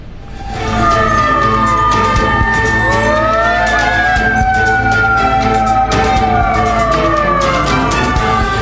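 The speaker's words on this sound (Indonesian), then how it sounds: "5 mobil pemadam kebakaran dikerahkan ke lokasi untuk memadamkan api." Wailing fire engine siren, one of several trucks sent to a burning food kiosk in central Garut, West Java, loud and close with sweeping overlapping tones over traffic rumble, no voices.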